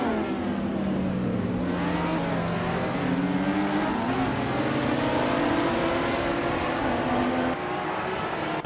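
Ferrari F40 engine in a racing video game, a loud sustained roar that revs and shifts pitch continuously throughout, with tire noise and no talking.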